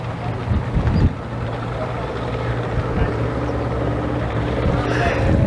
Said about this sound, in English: Oops, she's sputtering.